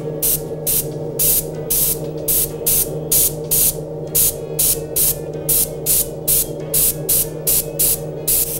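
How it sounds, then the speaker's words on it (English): Short bursts of hissing airbrush spray repeat in a regular on-off rhythm over a low steady hum, close and fairly loud, as paint is sprayed onto a reproduction steelhead fish. "I'm adjusting the spray on my airbrush"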